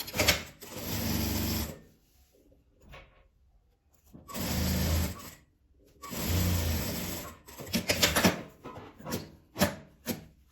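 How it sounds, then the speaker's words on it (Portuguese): A sewing machine stitching a seam closed along folded, stretched fabric, three sustained whirring runs separated by pauses, then a series of short stop-start bursts, loud and close. "Vou esticar ele bem e vou passar uma costura fechando essa parte toda."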